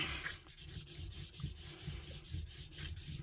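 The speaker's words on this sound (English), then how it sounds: "I'm going to rub these edges to get that glue what's just seeped through before it dries" Rubbing along the glued paper edges of a botanical lapbook journal's spine, a soft continuous scuffing with steady rhythmic strokes, close and quiet with no talking.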